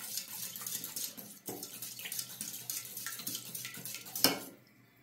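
A whisk or spoon beats lemon juice, yogurt and egg together in a bowl for a soup liaison, giving quick rhythmic clinks and scrapes close up, then a louder clatter near the end before it falls quiet.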